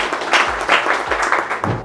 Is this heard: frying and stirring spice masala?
no